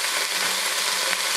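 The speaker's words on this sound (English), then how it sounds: "we got the meat in here sizzling." Ground meat for chili sizzles steadily in a hot pan, a dense, even hiss that carries on without a break and without any talk over it.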